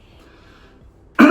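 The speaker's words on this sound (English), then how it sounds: "Had to clear my throat there for a minute" A man clears his throat once, sharply and close, after a quiet stretch of faint background sound.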